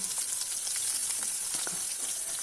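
Ginger and green chilli fry in hot oil for a shatavari pickle, giving a steady, close hiss of sizzling with small crackles and pops throughout and no voices.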